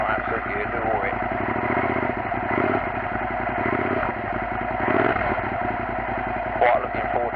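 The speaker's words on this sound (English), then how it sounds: "Definitely like that new exhaust for the money." A motorcycle fitted with a new exhaust runs close by, its engine chugging with a steady low pulse and brief swells in loudness while a voice speaks over it.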